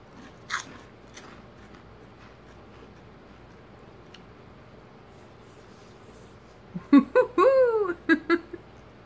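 Crisp crunching bites into a pickled onion flavoured snack, a faint early crackle followed by a loud cluster of close crunches near the end, with no talk.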